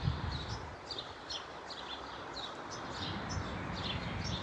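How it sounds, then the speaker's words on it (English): Birds in an outdoor nature setting give repeated short chirps at a regular pace, fairly faint and distant over low rustling background noise. "Beautiful birds, come and eat these, please."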